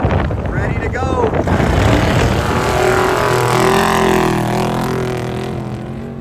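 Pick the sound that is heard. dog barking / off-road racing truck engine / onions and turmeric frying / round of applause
off-road racing truck engine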